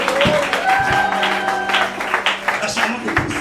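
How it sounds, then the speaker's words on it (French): Church congregation applauding and cheering in praise during a service, a brief burst of clapping with voices rising over it. "Et on acclame très fort le Seigneur Jésus."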